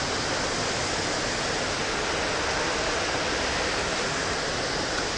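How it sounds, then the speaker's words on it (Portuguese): An artificial waterfall in an underground shopping arcade in Milan's fashion district sends out a steady, dense rush of falling water, loud and close, with no break and no voices. "Aí, ó, e ainda sai aqui na cachoeira"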